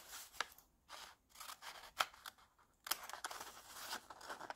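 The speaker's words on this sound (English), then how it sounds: "I'm just going to cut that out" Scissors snipping paper for a buildings-and-landscape collage, a few crisp close cuts spaced through the clip in quiet surroundings.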